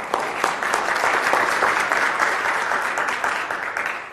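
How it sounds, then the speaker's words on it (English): Steady, moderately loud audience applause for a speaker taking the stage after lunch at an application security conference, dense clapping with no voices over it. "Thank you for the kind applause."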